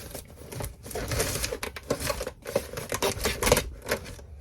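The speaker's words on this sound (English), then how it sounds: "We're just going to tape it up." Duct tape is pulled and wrapped around a plastic milk jug, producing continuous crackling, ripping and crinkling noises up close, rising and falling in irregular bursts.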